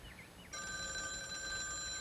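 A telephone bell rings in a police drama, starting abruptly about halfway through and sustaining a steady, bright electronic trill over faint room noise after a brief softer sound.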